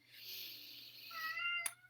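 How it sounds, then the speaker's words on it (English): A pet cat named Rizzo meowing in the background of a quiet room, two drawn-out meows in quick succession, the second rising and ending in a brief sharper squeak, with no talk. "you may hear him meowing in the background."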